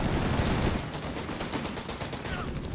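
Battle noise from Company of Heroes 3 as infantry throw grenades at anti-tank guns: dense, loud gunfire rattles in rapid bursts, with a heavier rumbling blast at the start, and there is no talking.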